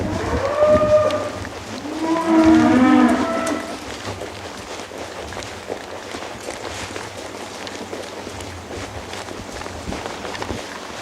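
Cattle moo loudly twice up close, long drawn-out bellows, followed by quieter shuffling and hoof sounds of the herd moving about during horse cow-cutting practice.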